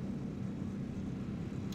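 Low, steady drone of a Ju-88 bomber's engines throttled down with propeller pitch reduced in IL-2 Sturmovik, a constant even hum with no voices.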